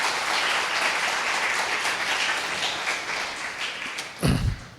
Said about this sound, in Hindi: एक ताली बजाएं, प्रभु को धन्यवाद दें